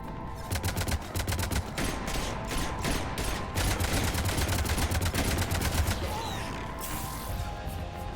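Rapid bursts of heavy cannon fire in the video game Mass Effect 3 boom in quick succession, loud and continuous, with mechanical clatter between volleys.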